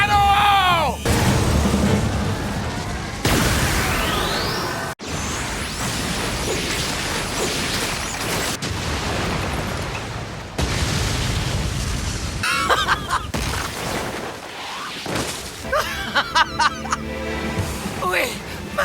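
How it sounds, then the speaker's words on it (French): Anime ultra cannon blast with whooshing energy, crashes and booming explosions layered over dramatic music and effects in a long chaotic barrage, loud throughout. "Un an de charge! Ultra canon!"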